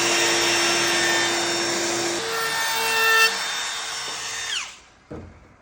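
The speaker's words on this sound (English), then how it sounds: "We're gonna go ahead and route that edge." A power router cuts along the edge of a wooden window sill with a loud, sustained whine that holds its pitch, shifts as the bit bites into the wood, then winds down and stops, followed by a short knock.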